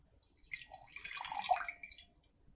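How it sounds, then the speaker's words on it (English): Water poured into a beaker in a school science lab trickles and splashes quietly for a couple of seconds, rising and then fading, with no talk. "Make sure you pour all water into the beaker."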